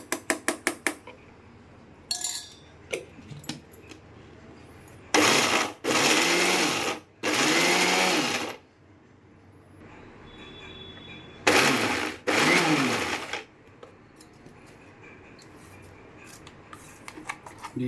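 A mixer grinder whirs through raw mango chutney, with the mango pieces left unpeeled, in several loud separate bursts of roughly a second or two each, some pulses falling and rising in pitch, between quieter kitchen clatter.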